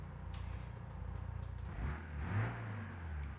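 The engine of a 1975 Volkswagen Brasilia mod in BeamNG Drive idles with a steady low burble, then revs up twice in swelling surges before settling back, alone with no talking.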